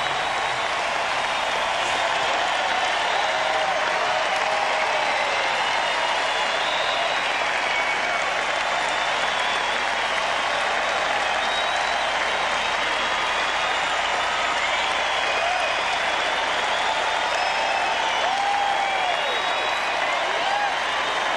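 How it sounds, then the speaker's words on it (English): A large crowd cheers and applauds George Bush at a welcome event after 9/11, with dense, continuous clapping and cheering filling the whole stretch at a steady, loud level. "Think of Jesus walking into the city with crowds much larger than this, cheering him on."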